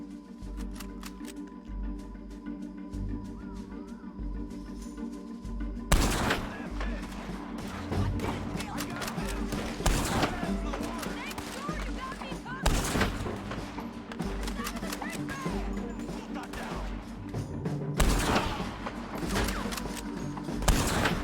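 A Red Dead Redemption 2 gunfight opens after a low tonal lull with a burst of loud shots, followed by scattered gunshots cracking over several seconds among ambient clatter.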